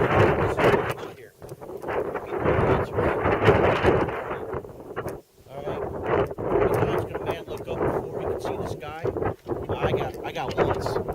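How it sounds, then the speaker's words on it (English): Strong gusting wind roars across a microphone during a February wind storm in Buffalo, a steady rough rush that dips briefly a few times, with a person talking over it. "Sorry, it's a little windy out."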